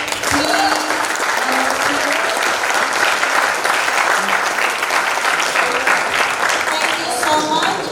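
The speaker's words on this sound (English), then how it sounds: "give a very big applause for this" A seminar audience at an international ecotourism event applauds warmly for about eight seconds, a dense, sustained round of clapping with scattered voices and brief cheers mixed in.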